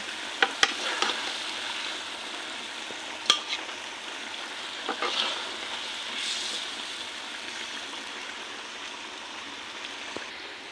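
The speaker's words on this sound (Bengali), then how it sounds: "মাছটা কষানো হয়ে গেছে, এখন উঠায় নিতেছি।" Fish sizzling in hot oil in a pan, a steady close frying hiss with a few sharp clicks and scrapes as pieces are lifted out.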